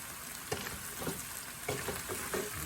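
Potatoes frying and browning in a pan for smothered potatoes, a steady close sizzle with a few louder crackling bursts as they are stirred or shaken, no talking.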